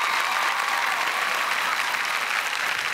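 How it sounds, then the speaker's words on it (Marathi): A studio audience at a Marathi TV comedy show claps steadily in a dense, even round of applause, with no voices standing out. "या प्रेक्षकांसाठी आपण सगळे टाळ्या वाजवत या महाराष्ट्रातल्या प्रेक्षकांसाठी"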